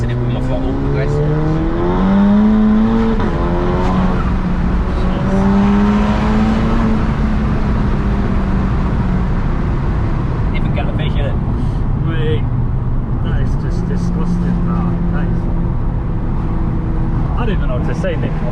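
A tuned VW Golf GTI Edition 30 accelerating under progressive throttle, its engine note rising steadily in pitch and loud throughout, with people talking over the sound.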